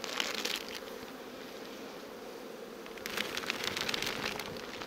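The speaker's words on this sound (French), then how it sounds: "on enlève bien les abeilles" Honeybees buzz around an opened beehive, a dense close swarm hum with rustling, swelling in brief bursts at the start and again toward the end.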